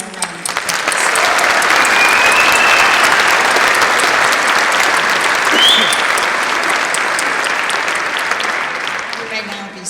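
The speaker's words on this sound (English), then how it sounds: "Will the audience please join me in giving them one more round of applause?" A graduation audience fills the hall with loud, sustained applause, dense clapping that holds steady for about ten seconds before easing slightly.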